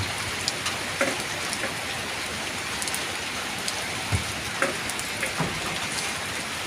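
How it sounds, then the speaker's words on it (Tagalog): Heavy rain pours steadily in a dense, continuous hiss, with a few louder drips and knocks standing out now and then. "Ang lakas ng ulan dito,"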